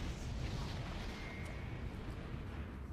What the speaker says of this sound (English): It's just regular explosions.